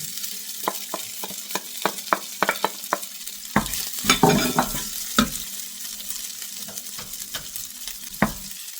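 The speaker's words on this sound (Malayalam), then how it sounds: "അപ്പോൾ ചിക്കൻ അതിലേക്ക് തന്നെ ഇട്ട് കൊടുക്കുന്നു" Chicken sizzles in a hot pan for fried rice while a utensil scrapes and stirs it in sharp, irregular clacks over a steady frying hiss.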